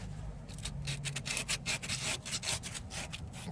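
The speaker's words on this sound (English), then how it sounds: "I'll go back to my tiny bit of sandpaper." Small piece of sandpaper rubbed by hand over a surface in the ABS sensor compartment of a vehicle, making quick, steady, close scratchy strokes.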